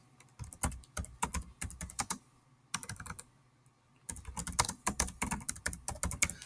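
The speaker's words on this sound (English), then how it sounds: "I'm just going to go ahead and type that in" Rapid clicking keystrokes on a computer keyboard, close and crisp, in two quick bursts with a short pause between them, no voices.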